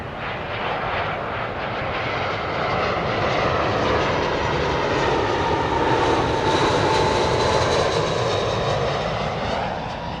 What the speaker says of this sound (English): A319 coming in from Belgrade.